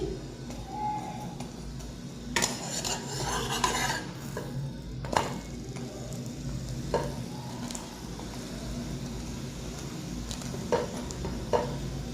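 Parathas frying in oil in a pan at home, with a steady sizzle under occasional metallic clinks and scrapes of a utensil stirring and turning. Close and fairly loud, with no talk.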